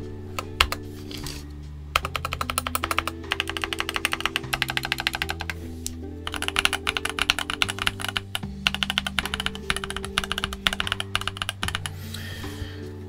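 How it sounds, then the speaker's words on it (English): Typing on a Tecware Phantom mechanical keyboard with double-shot keycaps: quick, crisp key clacks in bursts with short pauses, played over a steady background music track. "I'm honestly surprised at how well these keyboards sound."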